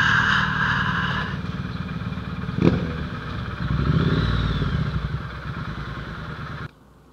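Motorcycles, including a CB500X, idle and ride past on a roadside stop during a La Union ride, a steady engine drone with a sharp clatter midway, a swelling pass-by, then an abrupt cutoff.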